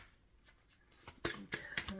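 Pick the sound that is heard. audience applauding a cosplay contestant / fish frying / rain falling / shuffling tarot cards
shuffling tarot cards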